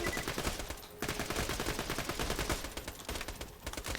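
Dense, continuous automatic gunfire from Axton's gun in Borderlands 2, rapid loud shots rattling for the whole stretch with only a brief dip near the start, and no voices.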